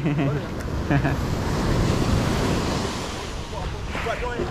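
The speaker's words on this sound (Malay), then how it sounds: "Ombak besar-besar." Big ocean waves roll and break on a sandy beach at Pasir Panjang, Segari, a continuous loud wash of surf with gusty wind on the microphone and a few brief voices in the background.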